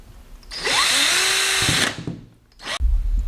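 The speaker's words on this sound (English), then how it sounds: "we are going to go ahead and drill." A power drill whirs loudly for over a second, spins down, then gives a short second burst, drilling to mount a front under spoiler on a 2008 Acura TL Type S.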